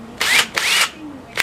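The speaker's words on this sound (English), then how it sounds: "Wow, power tools." A power drill whirs in short bursts while screws are removed during home demolition, three close, loud spurts of motor whine separated by brief pauses.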